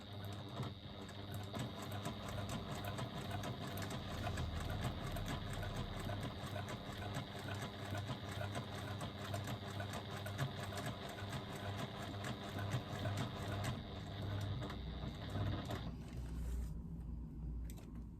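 A sewing machine stitches continuously around the top edge of a fabric piece, a steady, quiet mechanical whir with a rapid needle chatter that runs evenly and then stops near the end.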